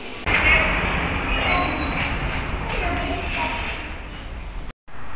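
A Budapest M1 metro train rumbles past, loud and close, with a broad roar and high wheel squeal throughout, the noise easing slightly before a short cut near the end.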